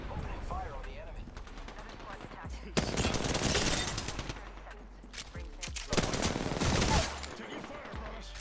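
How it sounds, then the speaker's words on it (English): Rapid automatic gunfire rattles in long sustained bursts during an Apex Legends match, heavy and continuous, with game voice lines and background battle noise between the volleys. "Opening fire on the enemy."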